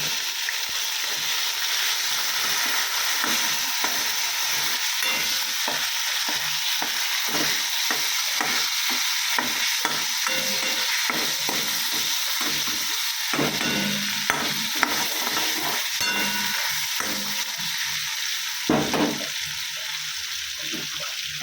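Tomatoes hit hot oil in a wok seasoned with a dried red chilli and nigella seeds, giving a loud, continuous sizzle and spatter with occasional utensil scrapes throughout.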